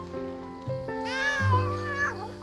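Stray island cats meow to beg for food, several drawn-out rising cries overlapping close by, loud and alone.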